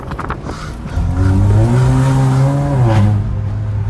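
Car driving, its engine rising to a loud, steady drone and then dipping slightly near the end, with no voices.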